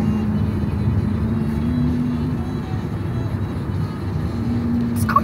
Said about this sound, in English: This car's going really slow with it.